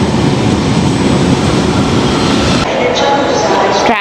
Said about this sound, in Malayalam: ഇഷു നമ്മൾ ഈ ട്രെയിനിലാണോ വന്നേ?